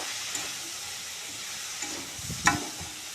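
Pumpkin peel, eggplant, potato and onion fry in a pan with a steady soft sizzle, broken by a few stirring scrapes and one sharper clatter near the end.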